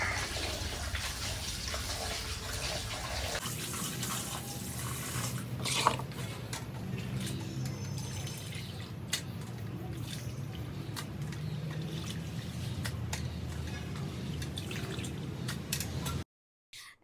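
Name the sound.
washing pork meat in water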